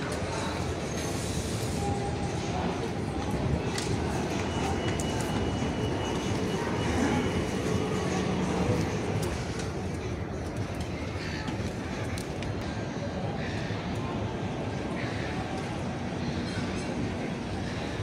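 Steady wash of station ambience at Flinders Street Station, Melbourne, with distant train rumble and crows cawing now and then, continuous and moderately loud throughout.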